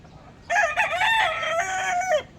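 A rooster crows once, loud and close, a long wavering call that rises and then trails off over quiet background.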